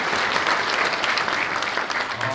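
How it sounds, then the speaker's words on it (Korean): A conference audience at an international drone sports and entertainment event applauds to welcome the company's CEO, with a steady, moderately loud wash of many hands clapping throughout. "우리 구동의 대표이사님 큰 환영의 박수로 맞아주시기 바랍니다"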